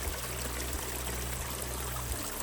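A clear stream trickles steadily into a small pond beside a stone wall, a soft continuous burble of running water that stays faint and even.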